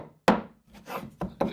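Chopping on a 2x4 with an As Seen On TV chopper: a sharp loud whack, followed by softer scraping strokes and two more close, crisp impacts in quick succession.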